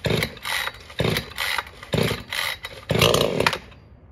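A $100 Husqvarna-style 572 chainsaw runs close by, its engine revving in four loud, regular bursts about a second apart, each rising then dropping back toward idle, with no voices.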